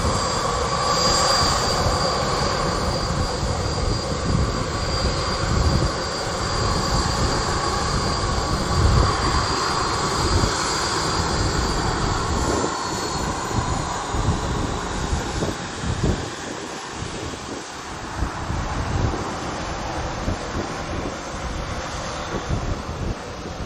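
Jet airliner engines roaring steadily at Montego Bay airport in Jamaica, a loud, continuous broadband rumble and whine with a faint high tone, sustained throughout without pause.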